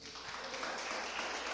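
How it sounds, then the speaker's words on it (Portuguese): Church congregation applauding in praise to Jesus, a steady wash of clapping from many hands held at an even level throughout, with no single claps standing out. "Aplauda a Jesus."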